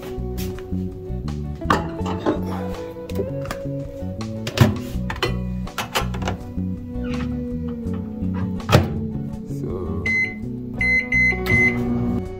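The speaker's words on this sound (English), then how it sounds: "Put it inside the microwave again for like 2 minutes." A steady low microwave hum runs throughout, with occasional clinks and thunks of dishes nearby and a brief beeping near the end.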